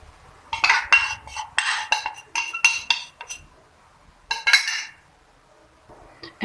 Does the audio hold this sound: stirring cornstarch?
yes